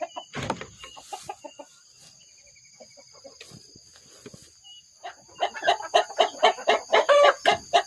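Chickens in a coop, including jungle fowl crosses, giving scattered clucks early on, then building into a loud, rapid run of repeated clucking calls close by, over a faint steady electrical hum.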